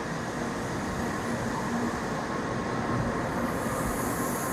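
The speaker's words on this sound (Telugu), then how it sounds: "చూడండి, బుల్లెట్ ట్రైన్ మూవ్ అవుతుంది. ఎంత స్పీడ్ అందుకుంటుందో చూడండి." Japanese Shinkansen bullet train pulling away and picking up speed, a steady broad rushing rumble that holds loud and even throughout, with no voices.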